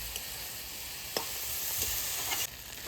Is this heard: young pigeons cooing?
no